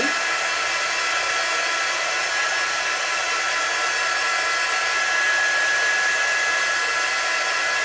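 Hair-dryer-style blower running steadily to dry a chalk craft project, a loud continuous airy whoosh with an even tone and no pauses.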